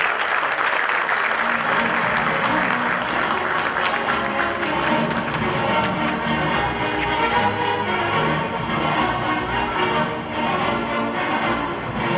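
Sustained, loud applause fills an award ceremony hall as a sports service award recipient is invited to the podium, steady clapping from a large crowd throughout.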